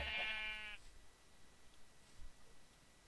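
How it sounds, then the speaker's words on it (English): One short wavering sheep bleat from Minecraft, clear and close at the start, then fading into faint background noise. "I feel like I'm killing sheep."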